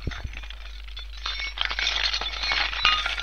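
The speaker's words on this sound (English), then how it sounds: "it sounds more like heavy chains moving around." Slowed-down recording of rattling keys sounds like heavy chains being dragged and shifted, with clanking thuds and grinding clinks over a low hum.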